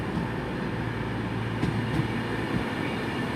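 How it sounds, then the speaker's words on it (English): A delayed Virgin Trains Class 390 service from Edinburgh, unit 390-124, rolls into platform 1 at Coventry station, a steady moderate rumble of train noise with faint squeals and clicks. "And also coming in on platform 1 is a delayed Virgin Train service, which is from Edinburgh and heading off to Milton Keynes Central."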